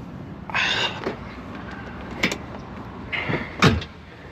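Doors on a Polaris vehicle being worked, with a few separate mechanical whirring and clunking bursts spread across the moment over a low background rumble.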